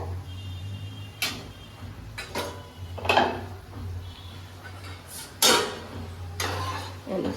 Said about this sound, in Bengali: এটা ঢাকা খুলে নিচ্ছি ডাল সেদ্ধ হয়ে গেছে